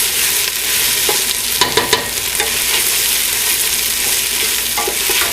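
Garlic fries in a hot pan with a loud, steady sizzle, while a utensil stirs it with a few scraping knocks against the pan.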